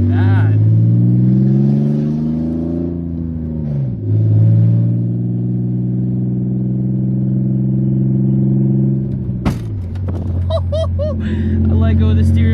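Drifting car with open headers, a loud raw engine drone that holds steady, dips and rises again with revs and a sharp bark near the end, with people talking over it.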